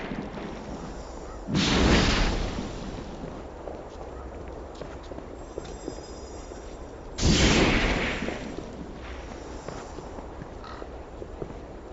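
Incendio fire spell cast in the PS3 game Harry Potter and the Order of the Phoenix: two loud, roaring bursts of flame a few seconds apart, each about a second long, over a steady game background.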